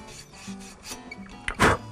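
A wire brush scrubs the end of a half-inch copper pipe, giving a few short rasping rubs followed by a louder, brief burst of scouring near the end.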